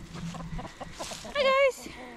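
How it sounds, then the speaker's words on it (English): Garden chickens cluck in short bursts near and loud, one drawn-out squawk standing out, with a person speaking briefly alongside. "Chickens."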